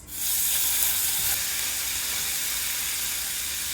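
Chopped vegetables with ginger, chillies, carrot and onion sizzle steadily in a hot pan for upma, a loud, continuous close-up frying hiss with no talking.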